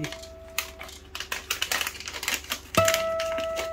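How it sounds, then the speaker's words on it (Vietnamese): An HP LaserJet Pro M402dn laser printer jammed while duplex printing from Tray 2 and Tray 1, pulling paper through in rapid mechanical clicks and rattles, then settling into a steady whirring hum toward the end. "kéo giấy đôi mà giống như là kéo giấy liên tục vậy đó"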